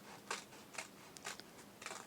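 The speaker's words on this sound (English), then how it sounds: "I'm just going to cut along there" Scissors snip along the folded crease of an A4 sheet of paper in several soft, evenly spaced cuts, quiet and close with faint papery crunches between them.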